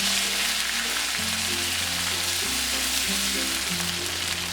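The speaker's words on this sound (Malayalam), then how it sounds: "ഇതിലേക്ക് കറിവേപ്പില ഇട്ട് കൊടുക്കാം" Curry leaves hit hot oil already holding fenugreek, fennel seeds and dried red chillies for Kerala beef fry, a bright, steady hissing sizzle close by, with soft music beneath.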